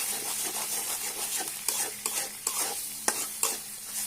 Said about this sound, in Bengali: এই যে ডিম দিয়ে দিলাম একটা।